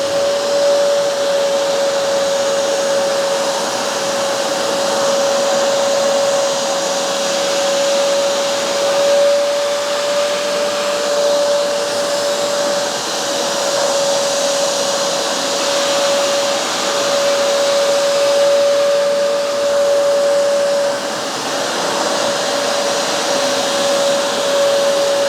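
Hoover SmartWash Pet and Bissell Revolution HydroSteam carpet cleaners run on carpet, a loud, steady motor roar with a sustained whine, droning without a break and with no talk.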